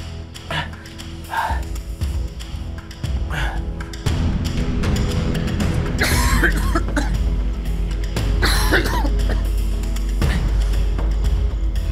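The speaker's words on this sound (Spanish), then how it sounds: "ya me está preocupando esa tos que tienes." A man coughs repeatedly and harshly in a domestic scene, with several loud fits of coughing and throat clearing close by; a dog barks briefly in the background.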